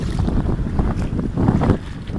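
Strong gusting wind on a kayaking trip down the Nida river buffets the microphone in loud, rumbling surges, with a low roar that rises and falls.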